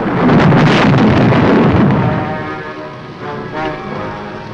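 Thunder rumbles loudly during a rainstorm in the 1955 film Bride of the Monster, a heavy roll that gradually fades into the steady hiss of rain and wind.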